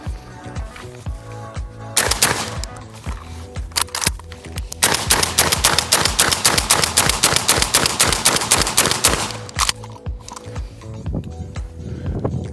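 A TRP 12 gauge semi-automatic shotgun fed from a 20-round drum fires a long string of loud, sharp blasts in quick rhythmic succession, after a couple of opening shots, with no talking.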